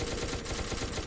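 Rapid bursts of automatic gunfire ring out in the SCP: Secret Laboratory video game, loud and dense with a fast, steady rhythm and no talking.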